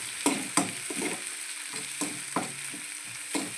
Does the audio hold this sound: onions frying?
yes